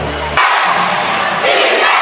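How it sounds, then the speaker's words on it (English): A Parañaque basketball crowd chants loudly in an arena during a league game, a dense roar of many voices that surges after a short opening beat and swells again near the end. "Parañaque crowd chanting defense."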